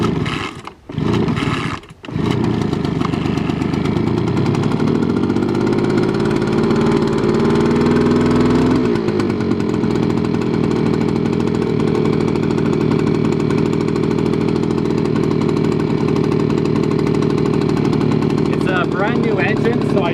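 The rebuilt engine of a Ryobi leaf blower catches after a couple of sputtering false starts and then runs loud and close in a steady, buzzing roar, with a brief rise in pitch midway before settling.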